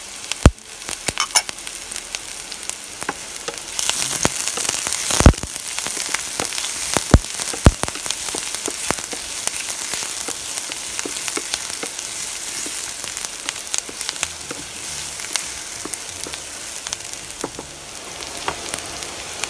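Onion sautéing in a frying pan for instant noodles with fried sardines pasta, a steady close crackling sizzle with scattered sharp pops and spatula stirring clicks throughout.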